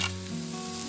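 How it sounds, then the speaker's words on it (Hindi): Beans, cabbage and cauliflower sizzle steadily as they are stirred and fried in a pan for vegetable soup, a close, continuous crackle with no talking. "इसे हम थोड़ा चलाते हुए थोड़ी देर इसको भूनेंगे"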